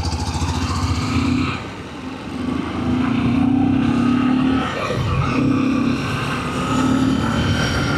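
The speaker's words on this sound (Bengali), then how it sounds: "এই লংয়ে বাইকটা খুব ভালোই চলছে এখন, 60-60-এর মতন স্পিড ভালোই চলছে" A Yamaha FZ motorcycle cruising at about 60 on a long open road, its steady engine drone rising and easing slightly with throttle under continuous wind rush, with no talking.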